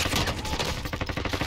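Rapid gunfire rattles in Warzone's Rebirth Island Resurgence mode, dense overlapping shots crackling in quick bursts at close range, with no talk.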